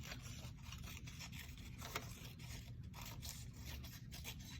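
Scissors cutting out a paper birch tree shape, a continuous close, faint scraping and snipping rasp with no pauses.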